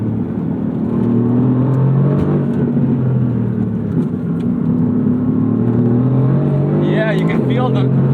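A Mercedes AMG GT R driving on throttle, a steady loud engine drone with a whirring undertone heard from inside the cabin, with someone talking over it throughout.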